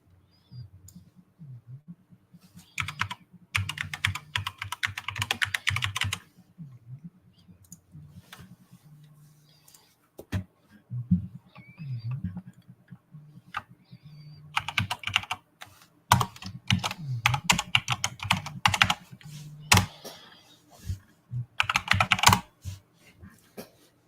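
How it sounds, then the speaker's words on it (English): Rapid bursts of computer keyboard typing as an IP address is entered, clattering keystrokes in several runs separated by pauses, close and crisp, over a faint low electronic hum. "I guess it helps if I type the IP address in right for that thing."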